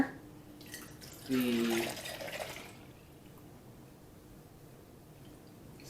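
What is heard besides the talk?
straining vinegar shrub liquid through big strainer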